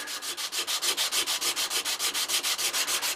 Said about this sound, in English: So a little bit of sanding,